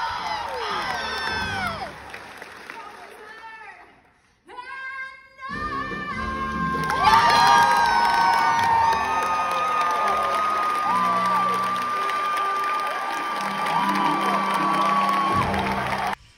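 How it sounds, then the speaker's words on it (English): Broadway theatre audience at the Wicked reopening night, loud cheering, whoops and shouts from a packed house with sustained sung or held tones; the crowd briefly drops out midway, then surges back into roaring cheers that carry to the end. "And everyone's cheering and then they shut up because we know what's coming next"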